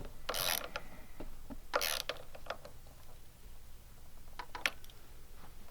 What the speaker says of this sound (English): he's going to tighten up that little bolt again.